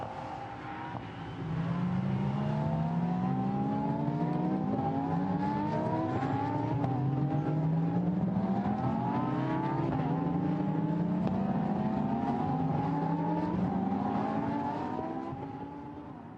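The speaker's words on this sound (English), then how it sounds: "So the cars head up now through the S's." Lamborghini Super Trofeo race cars accelerate through the S's at the Nürburgring, engines climbing through repeated gear changes in a rising, sawtooth pattern, loud and sustained with several cars overlapping for over a dozen seconds.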